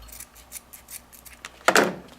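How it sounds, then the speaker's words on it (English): Scissors snip off the excess elastic at a sewn waistband, a few light close cuts followed by one louder, sharper crunching snip near the end. "you're going to cut off the excess on the top"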